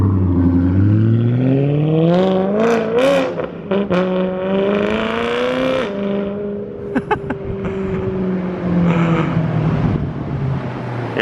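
A straight-piped BMW M3 accelerates hard through several gears, its loud raspy exhaust note climbing in pitch with each pull before sharp shifts, then settling into a steady drone close by.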